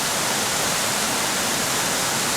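River rapids rush close by near Benlister Falls on the Isle of Arran, a loud, unbroken roar of fast-moving water filling the whole moment with no voices.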